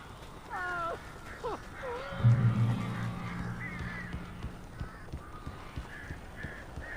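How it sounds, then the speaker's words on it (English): Crows cawing inside a cabin in the Alan Wake video game, a few harsh calls early on over low rumbling ambience, with a voice speaking briefly amid the game sounds. "These birds are weird."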